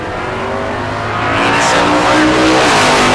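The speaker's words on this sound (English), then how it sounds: "Scotty out of Columbia Falls, Montana, the 65 Chevelle for the Division 6 runner." Drag race cars launching, including a 1965 Chevelle, at a big-money bracket race: a loud, continuous engine roar that builds and swells as the cars pull away.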